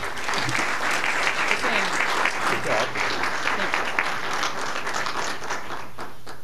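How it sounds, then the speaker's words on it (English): Sustained audience applause at a 2010 Hall of Fame awards event, honoring an award recipient; dense, steady clapping from a large crowd fills the whole stretch at a loud, even level, with some voices mixed in. "I think we all deserve a round of applause for Sam Cherish, who really deserves this award."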